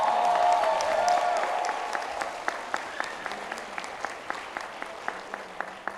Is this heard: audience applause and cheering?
yes